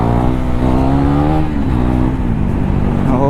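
A KTM Duke 390 motorcycle running without its dB killer, a loud, close, continuous engine drone with a strong harmonic growl and shifting revs throughout, with no speech.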